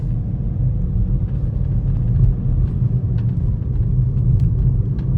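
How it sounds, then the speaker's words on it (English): A BMW E9X 335d diesel with a jerky gear change starts and pulls away, giving a steady low engine rumble heard from inside the car, even and moderately loud with no voices. "Now we should be able to start the car again."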